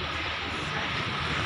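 Special express train No. 8 speeds toward Chum Saeng station in Thailand, a loud, continuous broadband roar that stays close and steady throughout.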